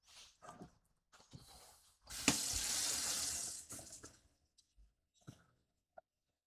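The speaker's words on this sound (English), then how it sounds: "Gotta put some water in a pan" Tap water runs steadily into a pan in a home kitchen for a couple of seconds, a bright rushing hiss, framed by clinks and knocks of handling before and after.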